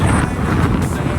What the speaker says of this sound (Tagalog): Ang lakas na ng hangin, eh.